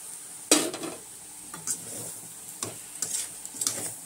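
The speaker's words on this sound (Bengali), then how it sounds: "আলুটা দিয়ে মিশিয়ে একটুখানি জল দিয়ে দেবো।" Soybean curry with potatoes is stirred in a frying pan, with a spatula making several close scraping strokes at irregular intervals over a soft sizzle, without talk.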